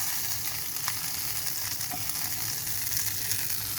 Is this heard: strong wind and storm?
no